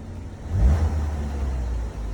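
A car engine revs briefly as the gas pedal is pressed, a low rumble that swells and then holds at a steady hum through the short stretch, with no talking.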